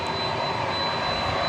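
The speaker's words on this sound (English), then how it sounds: "And that noise you hear is a 767 United Airlines, not United, UPS. Which is just firing up to the south of us." Jet engines of a UPS Boeing 767 spooling up at DFW Airport give a steady, broad roar with a faint high whine, constant and moderately distant, filling the air without any voices.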